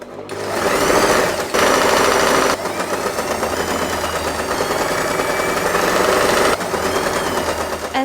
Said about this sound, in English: I am going to stop sewing right here and continue sewing